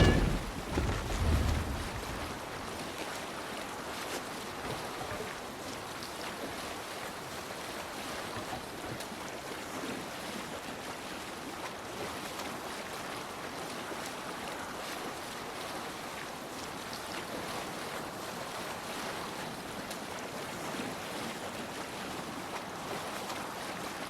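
A Viking longship sails across open water in Assassin's Creed Valhalla, with continuous wash of waves against the hull and wind, steady and unbroken, a brief thump at the start, no talking.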